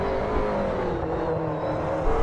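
A GT race car engine from a sim racing game at Spa drones steadily as it passes. The sustained whir and roar stays fairly loud for the whole stretch, with no voices.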